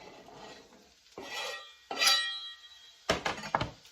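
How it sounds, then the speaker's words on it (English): Celery and pepper being stirred into a vegan chilli in a pan, with several distinct scraping, clinking stirs of a utensil against the pan, close and fairly loud, no talking. "And give that a mix"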